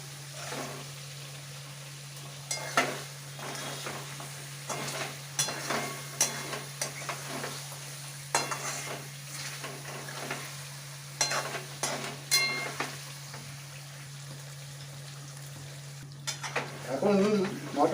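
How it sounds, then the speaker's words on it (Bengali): Mutton curry with yogurt and a tomato stirred in a pan, a soft background sizzle broken by intermittent scraping and clinking strokes of a spoon against the pan, fairly quiet with a low steady hum beneath. "এবার এটাকে ভালো করে নাড়বো।"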